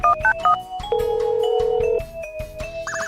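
A telephone in a video game is dialed as a quick series of short beeping tones, then a longer sustained tone and a few more beeps, clear and close.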